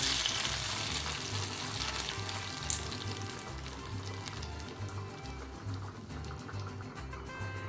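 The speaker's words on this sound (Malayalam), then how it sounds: "ഇതിലേക്ക് വെളിച്ചെണ്ണ ഒഴിച്ച് കടുക്, വറ്റൽമുളക് ഇട്ട്" Mustard seeds and dried red chillies fry in hot coconut oil for a Kerala tapioca and fish dish, giving a steady close crackling sizzle with faint popping throughout and no talk.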